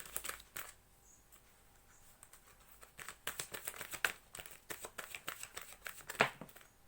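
Tarot cards shuffled and drawn by hand, a quiet opening giving way to a run of rapid papery riffles and flicks, close and fairly soft.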